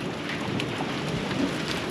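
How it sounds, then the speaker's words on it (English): Heavy rain falling steadily during a storm, with a low continuous rumble of thunder beneath the dense hiss of drops and no voices. "Thunder."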